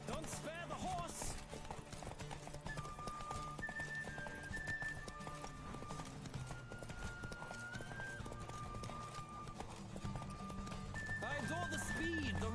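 A horse gallops with steady rapid clip-clop hoofbeats and lets out whinnies in The Witcher 3 video game, mixed with game music and a voice talking over it throughout.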